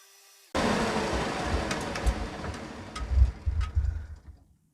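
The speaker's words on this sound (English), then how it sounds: "so I'm going to move to the linisher" A linisher belt sander starts abruptly and grinds loudly against a natural wood slingshot, the rough rasping surging as the piece is pressed in, then stops after about four seconds.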